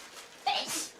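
A single quick, breathy sneeze, fairly faint and close, with a soft hiss trailing after it.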